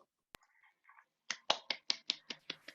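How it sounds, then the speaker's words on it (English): Sparse clapping from an audience at a talk: a few scattered sharp claps, then a short run of about eight crisp, evenly spaced claps, fairly close and with no talk over them. "Thank you for the claps."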